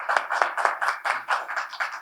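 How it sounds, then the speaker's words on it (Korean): A small audience at a university forum on inter-Korean relations applauding to welcome the session chair, with distinct hand claps in a quick, roughly even rhythm, fairly close, and no talking. "박수로 환영해 주시면 고맙겠습니다."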